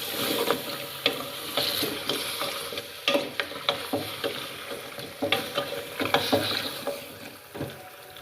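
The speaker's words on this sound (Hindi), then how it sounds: "दो से 3 मिनट हम इसको अच्छे से ऑयल में फ्राई कर लेंगे, भून लेंगे अच्छे से।" Beef trotters for paya fry in oil in a pot, a soft steady sizzle under a rhythmic run of scraping, knocking spatula strokes, fairly quiet and with no talking.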